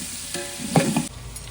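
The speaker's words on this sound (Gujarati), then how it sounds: "આપણે ટોમેટો અને હરગવો નાખી દઈશું મિક્સ કરી દઈશું" Tomato and drumstick pieces for sambhar stirred and frying in a pan: a steady sizzle with a few louder scraping stirs near the middle, no talking.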